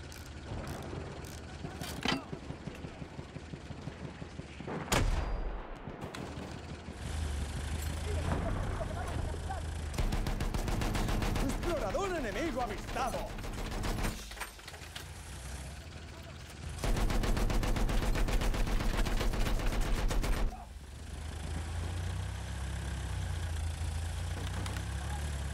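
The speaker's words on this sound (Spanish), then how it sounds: "¡Ametralladora enemiga!" Bursts of enemy machine gun fire crackle in Battlefield 1 amid tank engine idling and rumble, the rapid firing arriving in several loud stretches separated by quieter engine drone, with someone talking at times.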